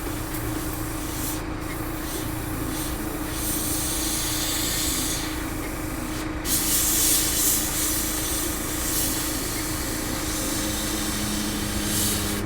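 Spray paint hisses onto a 1/48 scale Zvezda Su-57 model aircraft in a steady, close, continuous stream, with a few brief pauses and a stronger burst partway through.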